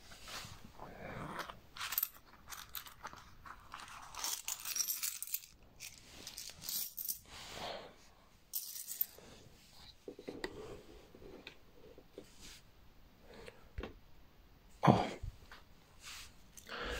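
Old silver coins (marks) are handled and shuffled among old silverware, giving scattered rubbing and clinking with one sharper metallic clink near the end, close and fairly quiet, with occasional faint voice sounds.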